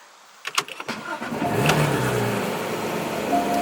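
A 2015 Porsche GT3 engine starts up from inside the car, with a few sharp clicks before it catches, then settles into a steady, fairly quiet idle.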